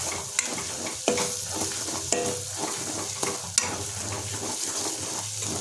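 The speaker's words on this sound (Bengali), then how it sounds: "সমস্ত গুঁড়ো মশলাগুলো আমরা কড়াইয়ের উপর যোগ করেছি, তাই এটাকে আমরা লো ফ্লেমে মিনিট 3 ধরে কষিয়ে নেব।" Ground spices, including coriander powder, are stir-fried in a wok on low flame for chana chicken, giving a soft, continuous sizzle broken by regular spatula scrapes and taps against the pan.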